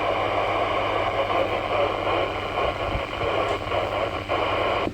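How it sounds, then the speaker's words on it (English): Ham radio receiver with the squelch turned down, giving a steady wash of hiss and static with a low hum underneath, constant and unbroken for the whole stretch with no voices. "Let's turn that squelch down so we can hear right into the noise."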